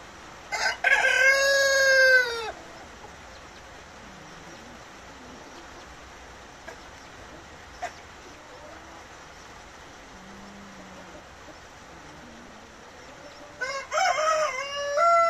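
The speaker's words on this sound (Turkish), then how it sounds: "Black Motlet cüce koşunlarımız." Black Mottled bantam roosters crow loudly and close by, one long crow at the start and another near the end, with a quiet stretch of faint backyard sounds between them.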